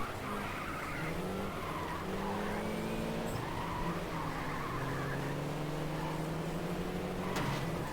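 A rally car in the PSP racing game Sega Rally Revo drones steadily at high revs, its engine pitch rising and falling through gear changes while tires skid and squeal on the loose surface for the full stretch, with no talking.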